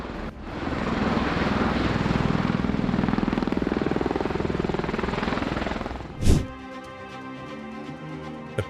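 A helicopter takes off from a rubber-matted helipad, its rotor wash tearing up the matting; a loud, pulsing rotor roar swells for several seconds, then a sharp bang cuts through before a quieter, sparser tail.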